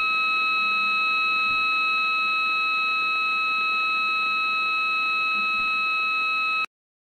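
A W10R micro siren, the smallest of the W10 series, gives a steady, piercing electronic tone with several stacked pitches held unchanged for about six and a half seconds, then cuts off abruptly.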